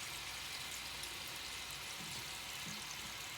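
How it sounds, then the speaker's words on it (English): Chicken pieces for chicken tikka masala fry in a pan with an even, continuous hissing sizzle, soft and fairly distant, with no talking. "It seems my 2-pound chicken has to be fried in 2 batches. It will take about 7-8 minutes to fry this."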